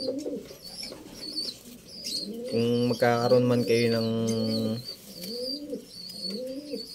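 A racing pigeon, one with a wound on the back of its neck, gives a loud, rich coo lasting about two seconds in the middle, with someone talking before and after it.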